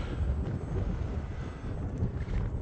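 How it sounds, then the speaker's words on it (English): Strong winter wind outdoors while a HobbyZone Aeroscout model plane is flown, heard as a loud, steady, rumbling buffet of gusts across the microphone with no talking. "Now fighting back into this wind because that wind was strong."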